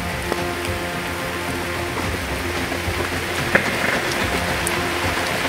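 Steady heavy rain falls hard on a surface on a mountain trail on Mt. Mantalingahan, Palawan, a dense, even hiss with occasional louder drops.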